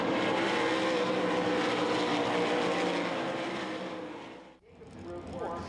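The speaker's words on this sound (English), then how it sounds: "Here comes Schaefer on the checkered flag lap, last lap dive" Sprint cars roar past in a heat race at the 2002 Knoxville Nationals dirt track, a loud sustained engine howl that fades away before another car's engine rises again near the end.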